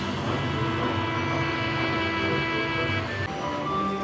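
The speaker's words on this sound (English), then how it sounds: "James puffed through the countryside." A Trackmaster toy steam engine running along the track: a steady, close rail rumble with sustained whistle-like tones, heard alone.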